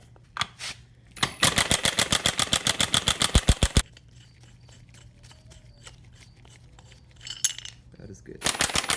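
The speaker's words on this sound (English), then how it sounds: "put the tool on top, put my wheel lug in, and just start impacting it" A handheld impact tool hammers new wheel studs into a Mazda wheel hub in a rapid run of loud, evenly spaced blows lasting a couple of seconds, followed by quiet handling noises and a second short burst at the end.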